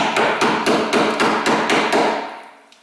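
A hammer pounds a bolt on the rear spring shackle of a Ford Explorer Sport Trac in about nine loud, evenly spaced metallic blows, with the ringing fading away at the end.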